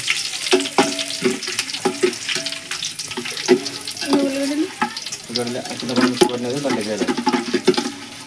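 Fish curry with curry leaves sizzles and fries in a pan while being stirred, with steady frying noise, repeated scraping strokes and voices talking throughout.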